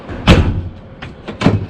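The entry door of a 2020 Coachmen Catalina Legacy Edition 293RLDS camper trailer swings shut with a hollow thump, followed by a couple of softer latch clicks and a second knock nearby.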